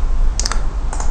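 Keystrokes on a computer keyboard while entering a search term in the MATE desktop's preferences, a few close clicking taps in quick clusters with a steady background hum.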